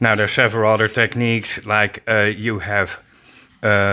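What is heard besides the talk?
None of the usual background noises is heard.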